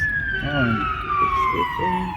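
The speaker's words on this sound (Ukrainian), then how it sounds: "Пожежна кудись спішить. Куди це вона так кричить? Як на пожар їде." A fire engine siren passing on a street in Poland, its wailing tone sliding steadily downward as it moves away, with voices speaking underneath.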